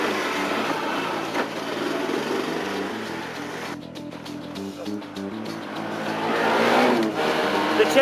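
A Honda Cub motorcycle running on chip fat drives around the block, its small engine giving a steady mid-distance drone that rises and falls with the throttle, with no one talking.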